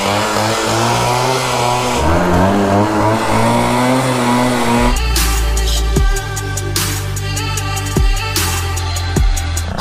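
Loud drag race between a scooter and a Kawasaki Ninja ZX-10R motorcycle: a droning engine holds steady, then a harsh high-revving sportbike engine takes over with sharp repeated gear-change revs, close and unbroken.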